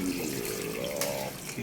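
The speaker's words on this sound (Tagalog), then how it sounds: "Tapos, lagyan natin ng tubig" Water runs into a pot of pork innards being prepared for dinuguan, a brief, close, steady gushing stream.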